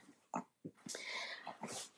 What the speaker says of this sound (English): my little dog here wants to help